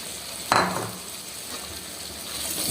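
Chicken karhai frying in a pot, a steady broadband sizzle with a sharp burst near the start as something hits the hot oil, then settling into a constant close hiss with no voices.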